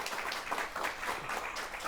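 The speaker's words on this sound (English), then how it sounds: "Give them a round of applause." Studio applause for a pet charity group, a brief, even burst of many hands clapping with no pauses.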